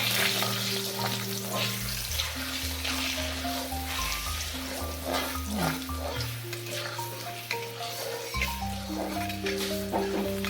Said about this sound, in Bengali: রসুন দিলাম তেলে